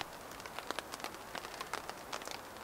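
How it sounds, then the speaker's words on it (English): Rain patters on a tarp shelter over a hammock camp in the woods, a steady soft crackle of many small drops with scattered louder taps, close and fairly quiet with no talking. "I do love the sound of the rain though on the tarp"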